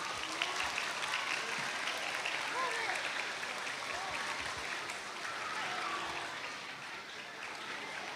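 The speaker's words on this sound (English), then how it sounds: "let's give them another round of applause" A crowd applauds a choir at a school National Day celebration, the clapping dense and continuous but fairly distant and moderate in level, with faint crowd murmur mixed in.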